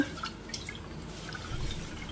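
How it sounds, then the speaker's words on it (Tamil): Rice being washed in water by hand in a home kitchen: soft drips, light sloshing and trickles, fairly close and quiet, with no talking. "இப்போ நல்லா வாஷ் பண்ணிவிட்டு தண்ணி சேர்த்துக்கணும்."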